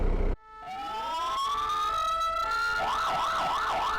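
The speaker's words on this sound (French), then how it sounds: "Cette sirène américaine équipe déjà tous les véhicules d'aide médicale urgente d'Europe" An American-style siren fitted to a SAMU Toulouse ambulance starts with an abrupt click, then rises in a long wailing sweep before switching to a rapid warbling yelp, loud and close, with no talk.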